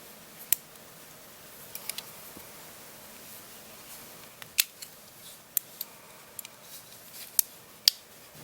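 Leatherman Surge and Wave multi-tool scissors snip in sharp, isolated clicks, a dozen or so irregular cuts against a quiet background with no talk.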